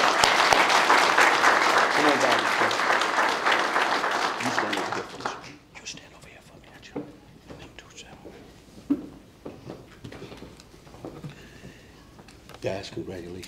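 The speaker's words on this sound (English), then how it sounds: "Let's give them a round of applause while they come." A crowd applauds steadily for several seconds, then the clapping dies away into quiet murmuring and scattered thumps.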